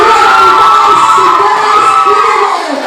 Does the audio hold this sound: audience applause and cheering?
yes